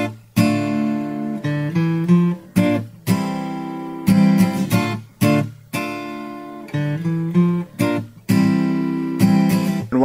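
Acoustic guitar strummed in short bursts with brief pauses between chords, and low bass notes walking between the strums.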